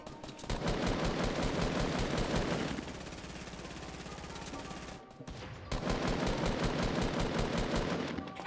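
Sustained rapid automatic gunfire rattles loudly in a video game as an opponent is shot down, with dense bursts that ease briefly before a short gap and a return to heavy continuous fire.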